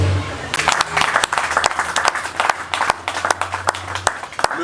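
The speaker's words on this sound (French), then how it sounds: "Applaudissons encore une fois de plus" Applause from an audience at a formal gathering, a burst of scattered hand claps, fairly close and moderately loud, with a voice speaking underneath at the start.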